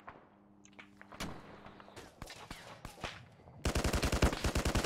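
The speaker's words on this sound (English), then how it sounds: "Incoming 50 cal fire from the sniper again." Gunfire echoes across an Arma 3 battlefield, scattered sharp shots early on and then a loud rapid string of rhythmic reports at the end, with nearby bursts standing out against quieter distant cracks.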